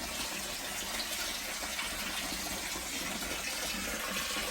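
Water gushes under good pressure from a pipe into a koi pond under construction, a steady dense rushing and splashing that holds evenly throughout, close and loud with no voices.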